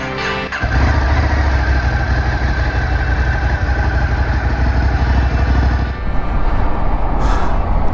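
Ducati 850 motorcycle engine starting and then idling close by, a loud steady throbbing rumble that holds evenly for several seconds with a slight rise near the end.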